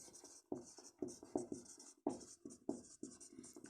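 A teacher writes on a board during a biology lesson on the skeletal system and joints, with quick, rhythmic scratchy strokes in short bursts and small pauses between words, close and fairly quiet.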